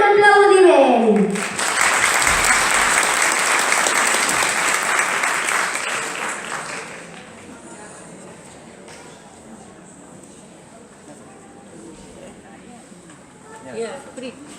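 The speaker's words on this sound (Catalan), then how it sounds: "Un gran aplaudiment." Audience at a Christmas school festival breaks into loud applause that swells, holds for several seconds and then fades into quieter murmuring and room noise, with a voice speaking at the start.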